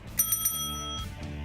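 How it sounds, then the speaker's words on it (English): A quick bell sound effect rings out in a bright triple ding, followed by a softer ring, played briefly over background studio chatter. "I think we need a bell here every time he gets one."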